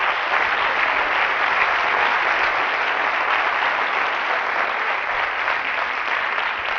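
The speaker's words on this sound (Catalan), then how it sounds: "per ells els demanaria el primer aplaudiment" An audience packed into an electoral debate hall in Navarcles gives sustained, even applause, a continuous dense clatter of many hands at steady loudness throughout.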